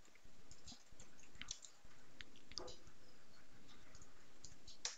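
Computer keyboard keys clicking in quick irregular bursts, close and fairly quiet, with no voices.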